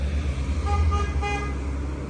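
Car horn honks in street traffic, two short toots heard over a steady low road rumble, moderately distant.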